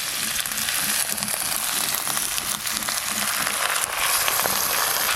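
Potato and pumpkin frying in oil as Malabar spinach goes in, a loud, steady close sizzle with faint stirring scrapes, no voices.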